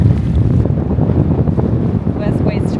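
Strong wind buffets the microphone on a sailing dhow at sea, a constant loud roar of gusts with some water and boat noise underneath, a few faint voices near the end.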